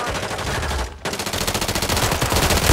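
Rapid automatic gunfire in Warzone 3.0 keeps up steady, loud, close bursts of shots for nearly three seconds, broken by one short pause and then firing again in a fast even rhythm.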